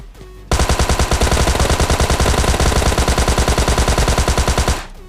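A Tommy gun in PUBG Mobile Lite unloads one long, unbroken burst of rapid-fire shots, loud and close, lasting roughly four seconds before cutting off abruptly; no talking.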